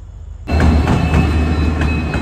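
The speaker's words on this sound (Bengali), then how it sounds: "ওই রেল আইতেছে রেলের আওয়াজ" A train passes at night. After a quiet half second a loud, close rumble of rolling wheels starts abruptly and holds steady to the end, with faint rhythmic clacks riding on top.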